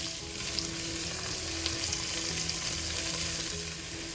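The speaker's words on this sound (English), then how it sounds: "chopped onions." Chopped onions fry in a pan with a steady, close crackling sizzle that holds even throughout, with no voices over it.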